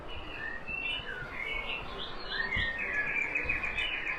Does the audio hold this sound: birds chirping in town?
yes